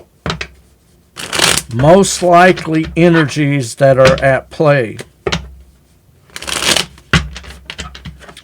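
Tarot cards being shuffled in a deck, heard as short papery riffling bursts at the start and again near the end, with someone speaking between them.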